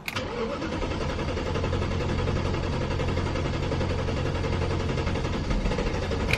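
BMW E34 540i with an M60B40 V8, fuel filters freshly replaced, cranking steadily for a long stretch before catching, a loud continuous starter-and-engine drone up close with no talk.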